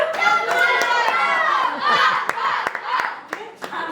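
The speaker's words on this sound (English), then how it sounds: "Let's give Martha Washington another round of applause" Scattered hand claps from a school audience greet a fifth-grade student performer at a history event, sharp separate claps under and between speaking voices that dominate the short stretch.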